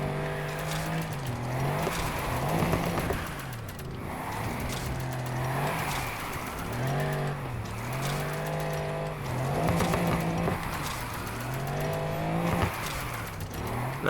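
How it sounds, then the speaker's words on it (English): Rear-wheel-drive car drifting in Need for Speed Heat, its engine revving up and down in repeated waves as the throttle is worked, with steady tire squeal and no talk throughout. "you have to do so much throttle control when you drift in these type of cars"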